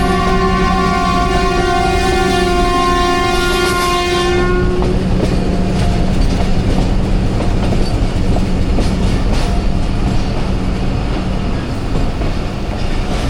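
The 13 UP Awam Express runs on its rails with a loud, sustained horn blast for the first few seconds, followed by a continuous close rumble and clatter of wheels and carriages.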